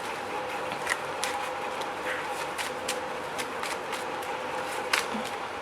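Tarot cards being shuffled, soft repeated riffling and flicking of the deck close by, quiet and steady against a low background hum.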